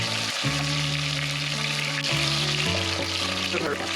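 Garlic sizzles steadily in a hot pan, a close frying crackle with a low hum beneath and no talking.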